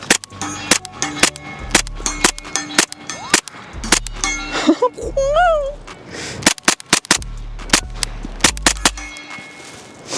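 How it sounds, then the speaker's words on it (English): Suppressed gunshots from a SIG P320 in a chassis fitted with a Resilient RSP suppressor crack out close and sharp in quick irregular strings, some fired in rapid bursts, with brief pauses and a short spoken remark between them. "definitely surprising that this was quieter, but I guess it just goes to show this Resilient RSP is a pretty sweet handgun can"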